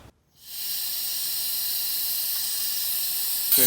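Compressed air hisses steadily while brake fluid is bled from a Suzuki GSX-R motorcycle, a loud continuous spray of air that starts after a brief quiet moment and holds even until a slight surge at the end.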